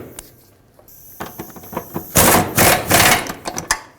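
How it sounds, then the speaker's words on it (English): Tightening carrier bearing bolts on the driveshaft of a 2001-2007 Toyota Highlander: a sparse series of clanks and knocks, then a denser burst of loud metallic rattling and clicks, up close with no talking. "Let's tighten up these carrier bearing bolts."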